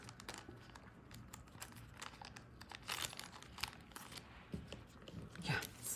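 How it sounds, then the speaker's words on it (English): A small plastic baggie crinkles and rustles as a sterling silver ring is packed into it, giving irregular bursts of close, quiet crackling over several seconds. "I'll put that in its own little baggie."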